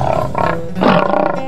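A lion roars in an animated Odia moral story set in a forest, two loud, rough roars close together filling the short moment with no talk over them.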